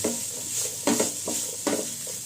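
Boiled chicken with ginger and garlic frying on high flame, a close, steady sizzle broken by several firm stirring scrapes in an uneven rhythm, with no voices.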